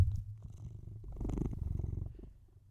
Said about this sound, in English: he purred for you guys